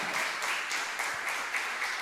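An audience at a large church congress applauds, a steady wash of many hands clapping at moderate distance that fills the short moment without a voice over it.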